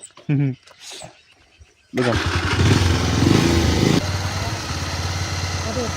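After a few words, a motorcycle engine roars into a steady rumble close by, revving slightly then settling, with speech over it.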